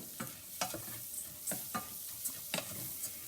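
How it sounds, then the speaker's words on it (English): Dry grains toast in a hot pan, with a soft continuous sizzle broken by scraping stirs at irregular intervals, quiet and close. "I'm gonna turn it up a little bit more so we get those grains nice and toasty."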